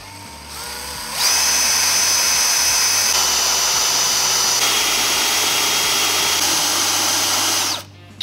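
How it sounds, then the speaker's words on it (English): A power drill with a 3/16 bit bores a pilot hole through the steel bumper support beam of a 2017 Chevrolet Corvette: a loud, close, steady high whine that runs for about seven seconds, then cuts off abruptly. "We're gonna start with a 3/16 drill bit to get our pilot hole"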